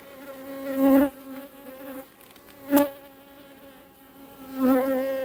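Honeybees buzz around a hive, a steady insect drone with three louder swells as single bees pass close by, with no voices.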